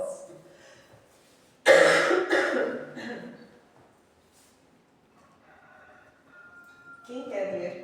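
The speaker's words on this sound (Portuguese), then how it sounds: "Desculpa, hora da tosse." A burst of harsh coughing, a few rough coughs in a row, close up, followed by quieter breathy sounds and a little talk.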